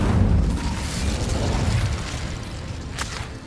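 Fire spell cast in Hogwarts Legacy, a low rumbling whoosh and burst of flame that swells, then crackles and fades over a few seconds.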